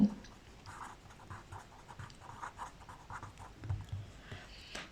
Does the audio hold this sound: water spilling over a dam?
no